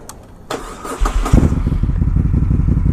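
A 2013 Moto Guzzi California motorcycle started with the key, starter cranking briefly before the engine catches into a deep, close, throbbing idle with an uneven pulse.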